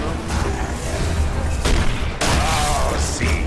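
Gears of War gunfire comes as a dense burst of booming shots and explosive blasts. It is loud and continuous, with sharp cracks standing out from the din.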